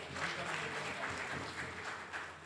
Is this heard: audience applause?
yes